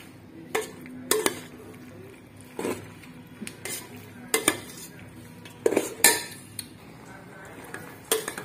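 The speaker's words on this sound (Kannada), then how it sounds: "ಆ ಒಗ್ಗರಣೆ ಫುಲ್ ಪಾಸ್ತಾಗೆ ಮಿಕ್ಸ್ ಆಗಿರಬೇಕು ಚೆನ್ನಾಗಿ ಮಿಕ್ಸ್ ಮಾಡ್ಕೋಬೇಕು" A utensil scrapes and clanks against a pan while pasta is tossed with a tempering of seasoning, producing irregular sharp metallic knocks and scraping bursts at close range over a quiet background.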